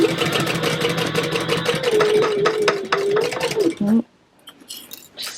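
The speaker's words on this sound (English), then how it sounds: "Let's try stitching in the ditch this way and see how it does." A sewing machine stitches in the ditch along a thick zipper pouch, a steady mechanical whir with rapid needle ticks running for about four seconds before stopping abruptly, followed by faint handling noises.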